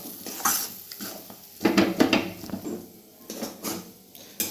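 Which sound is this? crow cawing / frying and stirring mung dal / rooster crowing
frying and stirring mung dal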